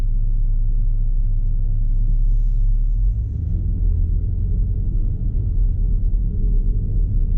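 A 2021 Dodge Durango GT drives with eco mode switched off, giving a steady low engine rumble and road drone from inside the cabin that eases slightly partway through, with no talking.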